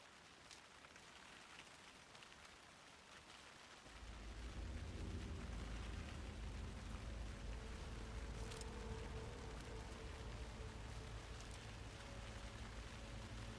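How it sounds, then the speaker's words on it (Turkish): Steady rain falls in the video game Alan Wake 2, a soft hiss that swells abruptly into a dense, heavy downpour with low rumble, continuing evenly with no voices. "Yağmur mu başladı?"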